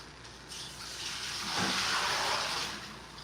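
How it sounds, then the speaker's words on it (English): Water drains out of a sink full of washed lettuce, a loud close rushing gush that swells midway and then holds steady, with no talk. "Let me drain this water out."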